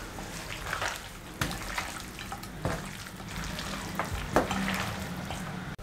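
Chicken being hand-mixed with garlic ginger paste for a marinade, soft wet squelching and stirring with a few sharper knocks against the bowl, fairly quiet and steady.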